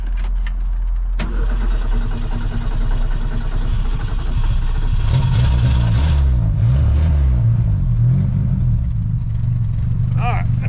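A 1972 Ford Pinto with a newly fitted radiator is cranked and fires up, the engine catching after a click and settling into a loud, close, slightly uneven idle with a rhythmic lope.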